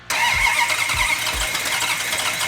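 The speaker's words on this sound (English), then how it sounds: "it's time to crank it over and fire it up" A Plymouth Hemi Cuda V8 cranks with a few rhythmic starter turns, then catches and settles into a steady, loud idle, heard up close with no talking.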